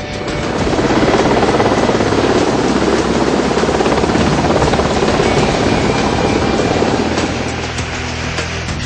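A Kamov or Sea King naval helicopter performing stunts above a warship gives a loud, steady rotor roar and whine that holds for several seconds, then eases slightly toward the end; no voices.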